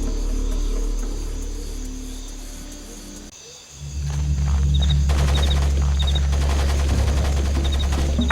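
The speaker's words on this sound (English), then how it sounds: "I've got to listen to the constant gunfire" Constant gunfire in the video game Splinter Cell Pandora Tomorrow, a steady loud roar of rapid shots with low booming underneath that swells after a brief lull and keeps going without a break.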